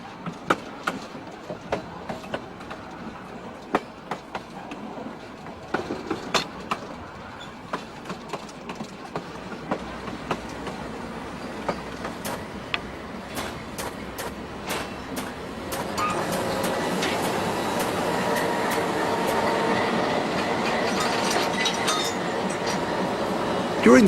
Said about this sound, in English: the train crosses the Klondike Highway for the first time